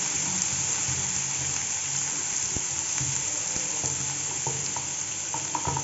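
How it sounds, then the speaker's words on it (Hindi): Garlic frying in a pan for bhindi masala, a steady close sizzle with occasional stirring clicks and scrapes throughout, no voices. "लहसुन हल्का सा कुक होगा, लाइट सा कलर आएगा"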